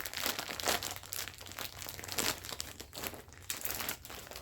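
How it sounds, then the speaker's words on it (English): A plastic bag holding bamboo alpaca yarn crinkles and rips open by hand, close up, with bursts of crackling and tearing in an irregular rhythm. "Sorry if there's crinkling. I don't like to use scissors when it comes to yarn. I'd rather just rip the bag."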